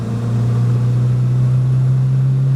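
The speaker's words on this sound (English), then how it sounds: "It's a lovely noise the little B series makes." A 1966 MGB GT with its B-series engine pulls up to 50 mph, a steady loud mid-pitched drone holding constant throughout, heard from inside the car with no talking.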